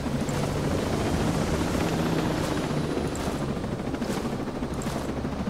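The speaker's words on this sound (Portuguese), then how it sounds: "Cadê o helicóptero que eu pedi? Tá bem em cima." A helicopter hovers close overhead in the tactical shooter Ghost Recon Breakpoint, a steady, loud rotor drone with faint crackling gunfire-like pops that runs unbroken through the whole stretch.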